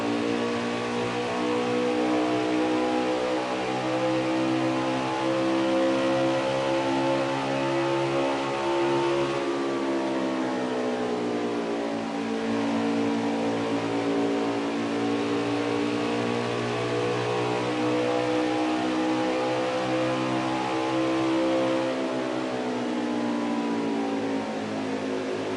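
Race car engines in a stock car league video game at Pocono drone steadily and loudly, with harmonic whines sweeping down and back up as the cars shift and accelerate around the track, continuous for the whole stretch with no talk.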